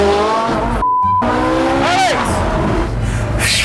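A Ferrari launches hard with a loud engine roar, rising revs and a brief tire squeal, close and intense throughout, with voices faintly mixed in.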